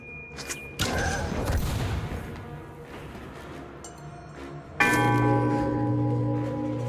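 A bell ringing in the video game Banner Saga III, with heavy, resonant clangs that strike loudly and then ring out in long, sustained tones over busy game sounds.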